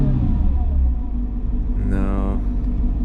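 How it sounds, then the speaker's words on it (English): A Mercedes C55 AMG with an M113 V8, running rich, rumbles at idle and then gives one short throttle blip that rises and falls back to a steady low idle, heard close. "let's see if it does anything when I blip the throttle"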